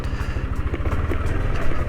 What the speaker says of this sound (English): this bike's just idling now